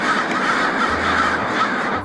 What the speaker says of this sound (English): Crows, they fly in the thousands